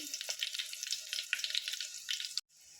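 Steady crackling sizzle of garlic frying in hot oil over low heat, close and fairly even, with small pops throughout before it cuts off abruptly.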